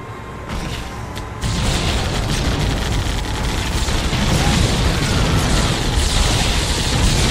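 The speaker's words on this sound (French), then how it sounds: "Grenade lancée." A grenade blast in the strategy game Halo Wars, a sudden loud boom that cuts in and leaves a dense, sustained roar of battle noise with crackling debris.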